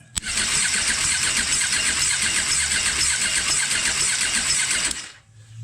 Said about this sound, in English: When you're cranking it over, there's a skip. You know, it's not smooth.